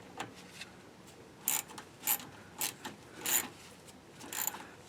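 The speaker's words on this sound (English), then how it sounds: "you just use a little ratchet and socket" Small ratchet and socket clicking in short bursts while turning a bolt on a Dodge Ram pitman arm, each few quick clicks separated by pauses, quiet and close with no talking.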